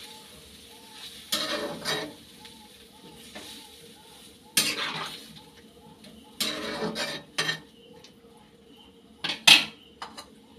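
Raw eggplant stirred in a cooking pot with a little hot water, giving several separate bursts of clattering utensil scrapes and knocks against the pot, with quiet pauses between them and a faint kitchen background.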